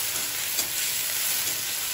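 Onions and chillies fry in hot oil in a kadai with a constant, close, bright sizzle and crackle that holds steady throughout, with no voices.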